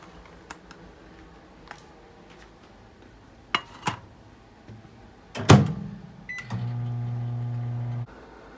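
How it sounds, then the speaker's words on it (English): A few clicks and clatters of buttons and a door, then a microwave oven starts running with a steady low hum, heating ramen. "now we need to microwave it for 2 minutes"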